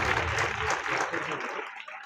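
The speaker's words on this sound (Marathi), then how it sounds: "त्याच्यासाठी एकदा जोरदार टाळ्या होऊ द्या" An audience at a school singing competition applauds a Class 8 student singer, a dense wash of clapping that holds steady and then tapers off toward the end.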